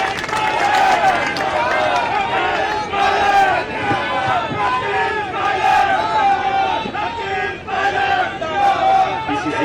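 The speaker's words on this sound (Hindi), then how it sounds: "आप जोरदार तालियों से स्वागत करेंगे सचिन पायलट जी" A large crowd at a Congress sit-in protest over rising prices welcomes Sachin Pilot with loud, sustained clapping and cheering, voices shouting over the dense noise for the whole stretch.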